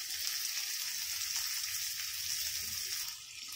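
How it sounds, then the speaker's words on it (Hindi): Boiled eggs seasoned with salt and turmeric fry with onions in a pan, giving a loud, continuous, even sizzle with no break in the hiss. "थोड़ा सा फ्राई कर लेंगे एक ही साथ में।"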